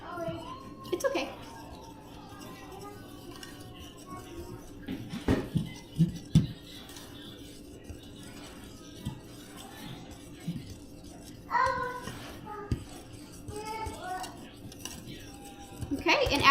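A spoon clinks and scrapes against a bowl while homemade pantry mix ingredients, including salt, are stirred together, with intermittent light taps under a speaking voice in a quiet kitchen.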